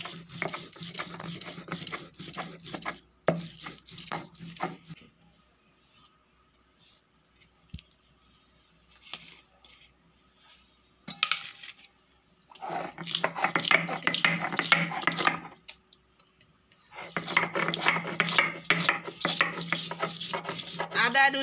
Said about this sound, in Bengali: রসুন সব বেটে রাখতেছি